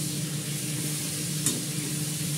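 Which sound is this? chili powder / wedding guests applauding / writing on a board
chili powder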